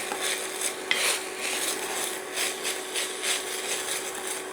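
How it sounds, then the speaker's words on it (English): Chopped carrot, onion and celery stirred in a pan for a cottage pie, with steady scraping and soft rhythmic swishes of a spoon against the pan and one sharp clink. "And we're just going to stir this."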